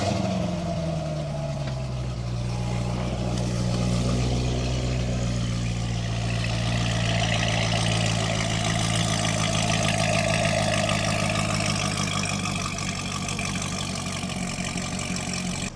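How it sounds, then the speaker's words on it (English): A Corvette ZR1 engine idles steadily and loudly after a cold start, its deep, even rumble continuing throughout with a slight settling in pitch early on. "Let me give you guys a cold start real quick."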